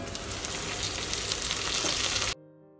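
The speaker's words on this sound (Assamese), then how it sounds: "ফ্লেমতে মাংসখিনি আৰু আলুখিনি ভালদৰে লৰাই লৰাই অকণমান সময় ফ্ৰাই কৰাৰ পাছতে" Chicken and potato pieces fry hard in an iron kadai for an Assamese chicken dry fry, a loud, steady close sizzle with stirring that cuts off abruptly near the end.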